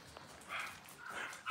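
A 4½-week-old Dalmatian puppy gives two short, faint whimpering whines, close by and quiet, with a soft rustle and a brief yip-like sound at the end.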